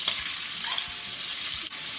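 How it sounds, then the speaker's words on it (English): Steady, loud sizzling and crackling of andouille sausage frying in a hot pan, a continuous hiss throughout with a faint clink near the end. "we're going to add in a pound of andouille sausage"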